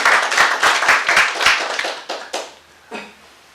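Scattered clapping from a small audience at a sales seminar: a few loud, close claps at first, then thinning out to isolated claps as it fades away.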